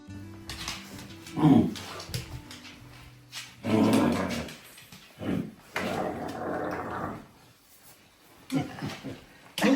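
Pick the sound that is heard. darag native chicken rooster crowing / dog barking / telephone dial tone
dog barking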